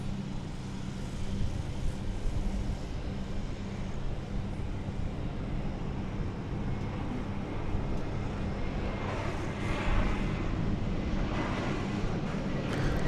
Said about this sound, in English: Coming in from Kansas City is this Airbus A321, American Flight 1098.